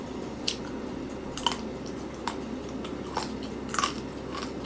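Crunchy chewing of crispy chicken feet (dakbal), a handful of crisp bites scattered over several seconds, close and fairly quiet against a low room hum, with no talking.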